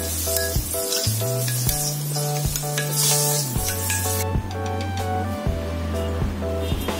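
Steady sizzling of eggplant frying in a pan with scraping stirring strokes, while background music with sustained tones plays throughout.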